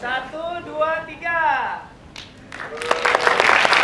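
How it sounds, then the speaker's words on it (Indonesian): An audience at a film premiere breaks into applause near the end, a dense burst of clapping that follows a stretch of voices and swells loud over the last second or so. "Boleh tepuk tangan buat semua yang ada di sini"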